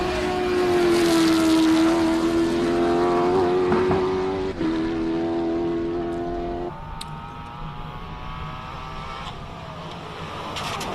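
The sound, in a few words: classic car racing at Simola hillclimb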